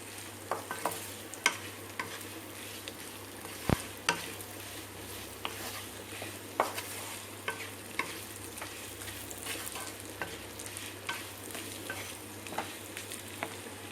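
Mutton liver fries with chili powder in a pan, a steady close sizzle broken by repeated scraping stirs and sharp clicks of the spoon against the pan.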